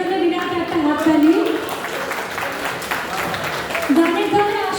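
An audience applauds performers at a New Jersey tribute event for Tapan Sinha. Steady clapping runs beneath someone speaking over a microphone, and the applause swells briefly near the start and again toward the end.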